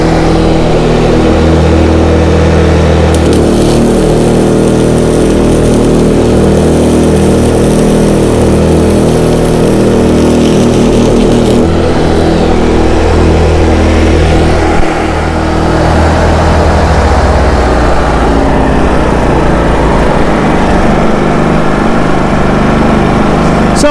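A small inverter generator runs steadily while someone welds at 50 amps, a continuous loud engine drone with shifting load and a hissing, crackling layer on top that drops out near the end.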